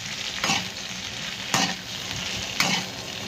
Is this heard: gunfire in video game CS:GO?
no